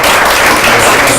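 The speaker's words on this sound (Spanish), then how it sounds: "Dale un fuerte aplauso a él." A loud, dense burst of church congregation applause, many hands clapping at once without pause.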